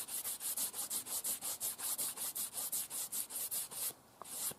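Compound is rubbed onto a Fallkniven DC3 sharpening stone in a fast, regular series of about twenty scratchy strokes, close and fairly quiet, ending in a pause and a last brief rub.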